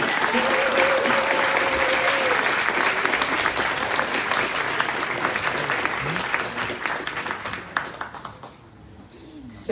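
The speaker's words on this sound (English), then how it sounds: "please clap while they come up" Audience applause at a voting rights community event, a dense, sustained clapping from a crowd close by that holds steady for several seconds and then tapers off near the end.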